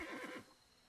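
A horse neighs in the video game Black Desert, one loud whinny that fades after about half a second, followed by quiet background.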